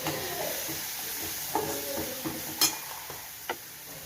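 A spoon stirs turmeric into a besan and buttermilk batter in a pan, giving soft scraping and clinking ticks at uneven intervals over a quiet sizzling background.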